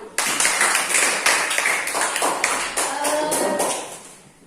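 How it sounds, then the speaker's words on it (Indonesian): A classroom group claps together in short rhythmic bursts, several distinct rounds of sharp, near hand claps with brief pauses between them, fading toward the end. "Tepuk tangan buat kita semua."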